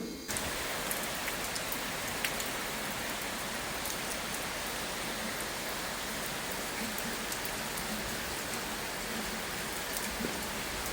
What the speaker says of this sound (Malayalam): അപ്പോഴത്തേക്ക് നല്ലൊരു മഴയും പെയ്തു